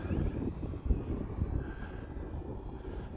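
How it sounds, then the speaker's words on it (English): An FMS Pitts V2 1400mm RC airplane buzzes overhead with a steady, distant engine drone, heavily mixed with strong wind rumble blowing across the microphone. "So let's take it up into the stall here in this strong wind."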